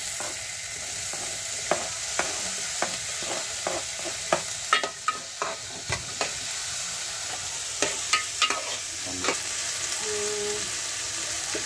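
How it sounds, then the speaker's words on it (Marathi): Tomatoes tipped into softened onions frying in a pan, a continuous sizzle with repeated sharp scraping taps of stirring throughout, no voices. "कांदा बऱ्यापैकी सॉफ्ट झाला आणि ह्याच्यामध्ये मी आता टोमॅटो टाकते."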